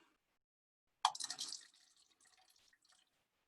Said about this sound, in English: I'm going to pour a little bit of solution into each of these.